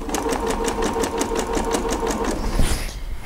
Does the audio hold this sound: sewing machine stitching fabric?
yes